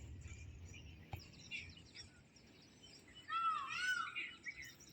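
Peacocks call near bushes, heard as faint, distant cries, with a louder rising and falling call near the end over a quiet background.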